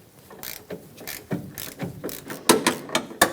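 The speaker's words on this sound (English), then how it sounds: "now this is where I'm going to use that short 13mm socket, and I'm going to loosen this one up" A 13mm socket ratchet loosens a bolt on a Nissan Rogue front strut, giving a series of quick, sharp clicks that start sparse and grow louder toward the end, with no voices.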